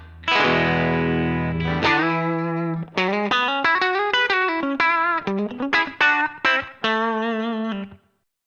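Country-style electric guitar played through a Line 6 HX Stomp with reverb: a sustained opening note, then a run of clean, twangy picked notes with gentle ambience, ending in a brief decay to silence.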